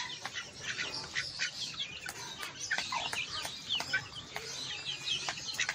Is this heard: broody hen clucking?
yes